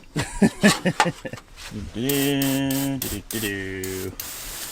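Someone talks, then two steady bursts of aerosol degreaser hiss onto an old abandoned combine outdoors, each lasting about a second or two with a short gap between.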